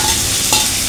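Small river fish dropped onto hot oil with a spice tempering and green chilies, giving a loud, steady, close sizzle that lasts about a second with a soft clink.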